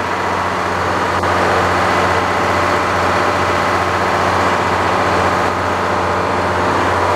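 A log turner machine's engine runs steadily with the clutch pressed in, a loud, even idling drone close by outdoors after rain, with no voices over it.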